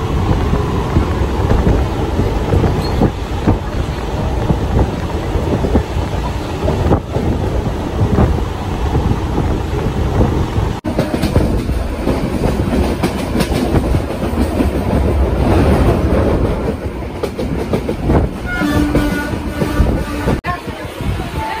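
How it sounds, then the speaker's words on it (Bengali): A train pulling into Sealdah station, a loud continuous rumble with rattling wheels and clatter throughout, the tone shifting midway as it slows near the platform. "ট্রেন চলে এসেছে শিয়ালদা স্টেশনে, এখন যে নেমে যাব।"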